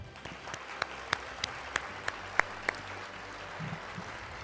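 At a university awards ceremony, a small audience gives sparse applause: about eight separate, sharp claps spaced irregularly over a quiet hall's background noise.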